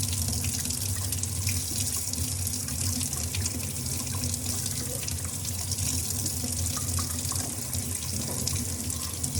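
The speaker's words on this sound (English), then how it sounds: "I'm going to take some warm water. I'm using my faucet water because why not?" Warm water runs steadily from a kitchen faucet, a continuous loud rushing splash into a sink that holds without pause for the whole stretch.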